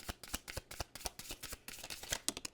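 Close, brisk hand-shuffling of a tarot deck, a rapid run of snappy card riffles and slaps that speeds into a dense flurry near the end, with no voices.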